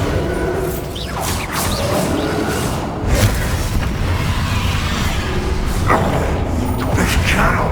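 Booming spell blasts and crashes in Hogwarts Legacy, loud and continuous with heavy low rumble and several sharp whooshing hits, while a voice calls out over the fight.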